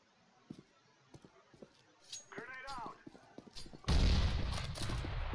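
Gunfire in the game CS:GO, a few sharp shots in quick succession followed by a loud dense burst, set against quieter background clatter and footsteps.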